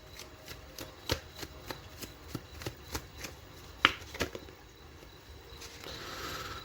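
Tarot cards are shuffled and laid down in a quiet room, a steady series of soft snapping card flicks about twice a second, close and fairly faint, with no talking.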